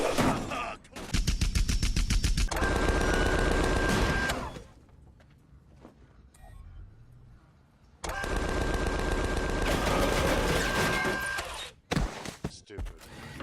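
Rapid automatic gunfire from a robot in the video game Tales from the Borderlands, loud and dense, in two sustained bursts of several seconds each separated by a quieter stretch, with a brief final spatter at the end.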